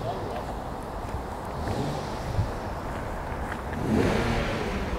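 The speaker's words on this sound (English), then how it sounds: "Someone's revving the car there." A car engine revs nearby on a roadside, a loud broadband roar that swells near the end over steady wind buffeting on the microphone.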